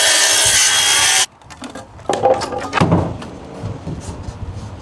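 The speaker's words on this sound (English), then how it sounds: "That's what I'm about to cut, is a stud from here down to the bottom plate" A loud, dense burst of power-saw noise cuts a wooden stud for a stair landing, then stops abruptly and gives way to knocking and handling sounds of lumber nearby.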